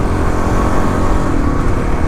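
A Kawasaki KLX351 motorcycle engine with a trimmed stock exhaust runs with a steady, throaty drone, loud and continuous throughout a brief span with no pauses.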